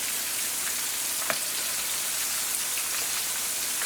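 Shrimp fry in hot oil with a steady, dense hiss of sizzling that stays constant throughout, close and fairly loud, with a faint tap or two and no voices.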